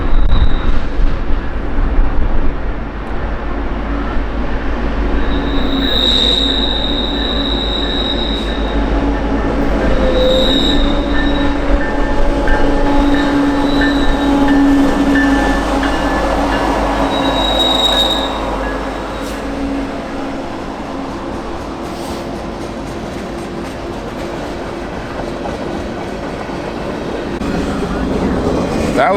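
A passenger train rolls through a VIA Rail station in Brantford, its wheels squealing in repeated high shrieks over a steady loud rumble that lasts throughout, with faint voices in the background.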